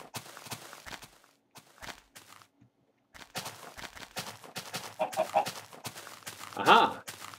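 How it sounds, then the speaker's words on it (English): In Minecraft, a chicken clucks in short bursts near the end, among scattered footstep taps and brief gaps of near silence. "Chicken."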